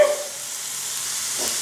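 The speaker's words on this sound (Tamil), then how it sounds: "இப்போ இதை நல்லா மிக்ஸ் பண்ணி விட்டுக்கோங்க" Brief, steady sizzle of chilli chicken 65 frying in a pan as it gets mixed, a constant close hiss with a faint scrape near the start.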